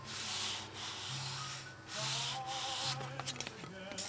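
Sandpaper rubbed on the cockpit of a Windy U Master 828 model plane in repeated close scratchy strokes, with a faint steady hum beneath and small clicks near the end, no talk.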